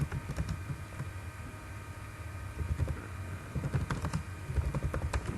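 Fingers tapping on a computer keyboard, quick irregular clicks close by and fairly quiet, coming in bursts over a faint steady background hum.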